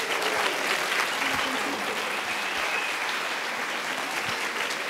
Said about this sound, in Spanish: Les pido un aplauso para la doctora